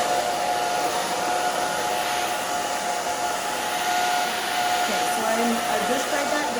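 A hair dryer blows a steady, loud whooshing roar while drying a bob haircut, with a faint tonal whine running through it and no pauses.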